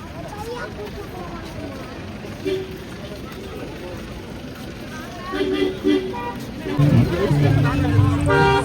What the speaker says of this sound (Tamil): சரியான டிராஃபிக்